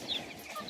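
Young chicks cluck and peep softly near greens they are being offered, a few short high chirps scattered over quiet, close-up background.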